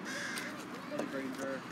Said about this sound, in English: Those noisy crows though